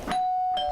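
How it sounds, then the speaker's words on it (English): A doorbell rings once with a clear two-tone ding-dong chime, close and alone. "And by knock, I mean the doorbell rang."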